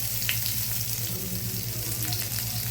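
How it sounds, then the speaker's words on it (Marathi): Garlic sizzles and fries in hot oil in a pan while cooking khichdi, a steady, close, dense crackle with no talk. "त्यामध्ये लसूण टाकलं आपण"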